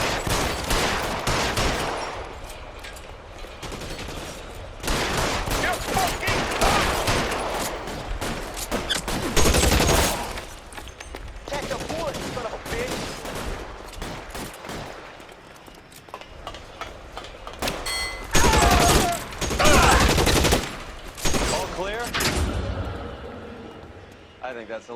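A chaotic shootout in L.A. Noire: repeated loud volleys and scattered gunshots come in waves, mixed with game ambience, while voices shout between and over the firing.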